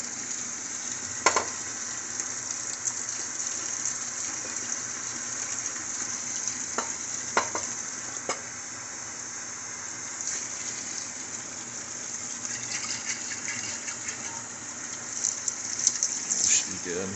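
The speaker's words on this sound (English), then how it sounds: "You don't have to wash it, just rinse it out just to get all that yeast and crap that's still stuck in the bottle." Water gushing and splashing as yeast sediment is rinsed out of a mead bottle, a steady wet rush running throughout with a few sharper clinks and spurts.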